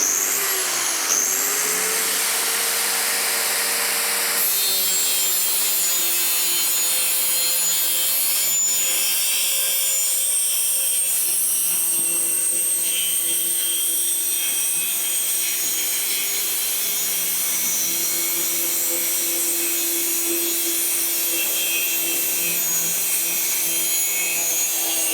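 Powerful electric cutting machine slicing through a uPVC kitchen cupboard board, a steady loud whining cut with grinding, rasping texture that holds for nearly the whole stretch after a short start-up, no talking over it.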